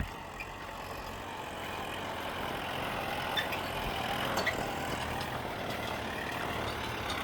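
A Kubota L5228 tractor's inline four-cylinder, 4,434 cc, 16-valve engine runs with a steady low rumble throughout, a few faint knocks and clicks on top.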